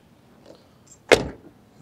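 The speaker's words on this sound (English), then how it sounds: "let me show you this door closing up" Passenger door of a 1988 Chevrolet Camaro IROC-Z shutting with a single solid thud, close and clear against a quiet background.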